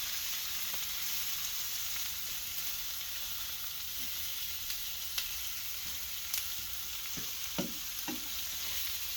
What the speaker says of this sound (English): And we turn over our sausages.